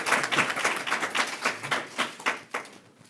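A small group of women clap at an International Women's Day stock exchange opening bell ceremony, a brief scattered round of applause with individual claps audible, fading out toward the end.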